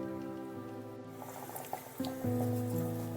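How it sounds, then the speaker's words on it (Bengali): Water is poured into a dried-out pea curry in a pan, giving soft liquid splashing and filling sounds that grow louder toward the end, heard alone at a moderate, close level. "এইবার আমি একটু জল এর মধ্যে দিয়ে দেব, পরিমাণ মতো জল একটু দিয়ে দেব।"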